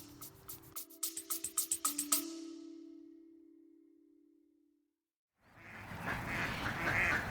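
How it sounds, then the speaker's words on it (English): Ducks at High Ash Farm heading in to roost for the evening, a run of about ten short, rhythmic quacks close by over a steady hum, then quiet before a burst of rustling, busy noise. "The ducks at High Ash Farm going in to roost for an evening"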